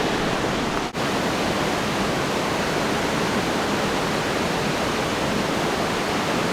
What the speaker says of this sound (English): Look at the falls behind me now.